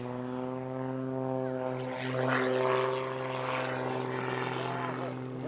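A French Air Force aerobatic propeller plane flies at an airshow, its engine droning with a steady buzzing hum that swells slightly as it passes, moderately distant and continuous.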